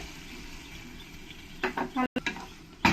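A spoon stirs South Indian sambar in a pan with a soft sizzle underneath. A few close scraping strokes come in quick succession near the end, after a quieter stretch of simmering.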